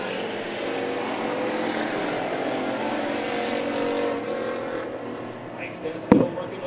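Race cars running three wide at Perris Auto Speedway during heat races, a continuous loud engine roar sustained throughout, easing slightly near the end with a sharp knock.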